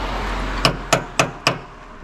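Four sharp, evenly spaced metallic knocks from a multi-tool striking during excavator work while loading mulch, close and loud over a low engine hum.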